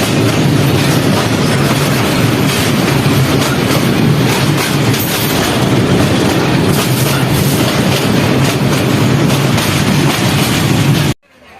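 A passenger train crossing the Teesta railway bridge at Lalmonirhat, heard from on board as a loud, continuous rumble and rattle of wheels on the span that cuts off abruptly at the end.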